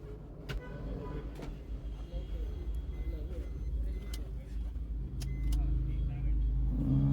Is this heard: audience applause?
no